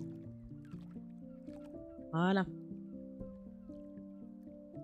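A single brief, loud seagull squawk from the game Follow the Meaning cuts through soft background music, while a person speaks briefly around it.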